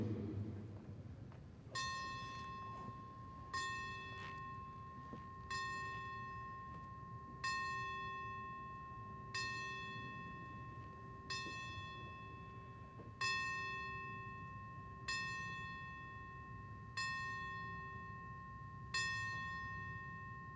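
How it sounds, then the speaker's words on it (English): A single bell rings out ten slow, evenly spaced strikes as a memorial tribute at a combat sports fight event, each clear tone ringing and fading over a low crowd murmur. "we're going to honor Mr. Danny Russell with the 10 count of the bell"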